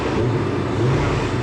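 A Lamborghini-engined car launches hard and accelerates, a loud steady engine roar with no pause for the whole short burst.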